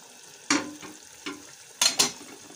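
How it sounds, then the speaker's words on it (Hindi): Chicken and onions fry in a pan for Irani chicken neck pulao, with a quiet steady sizzle broken by four sharp stirring scrapes, two of them close together near the end. "अब इसको तकरीबन 3 से 4 मिनट तक हम इसको फ्राई करेंगे"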